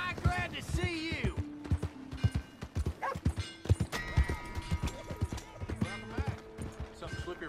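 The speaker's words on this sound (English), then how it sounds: "My horse!" A horse in Red Dead Redemption 2 clip-clops closely with uneven hoof beats and occasional snorts, while someone talks over it.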